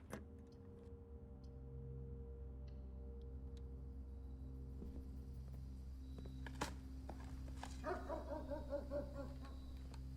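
A dog in the video game Blue Prince gives a brief run of faint, high yipping barks near the end, over a quiet, low background hum.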